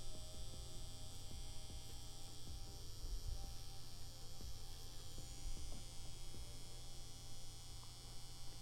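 Tattoo machine with a small needle configuration driving into a banana, a steady close electric buzz with a low hum running unbroken throughout, no voices.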